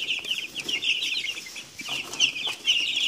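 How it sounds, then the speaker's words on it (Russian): Cobb 500 broiler chicks about ten days old cluck and cheep continuously as a busy flock, close and steady throughout with no talk. "Вот такие птички на 7-й"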